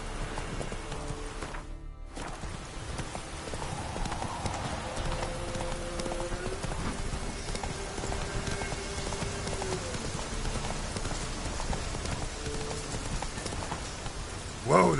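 Roach the horse gallops in The Witcher 3, a steady clip-clop of hooves running continuously over a soft rain-like ambient hiss, with a brief loud thump early on and a short rise at the end.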